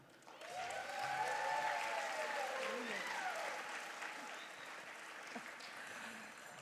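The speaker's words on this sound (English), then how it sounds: "Can we give Abby one more round of applause for all she does?" Audience applause at the Australian Women in Security Awards ceremony, clapping swelling after a moment and then gradually thinning, with voices and a few cheers rising above it.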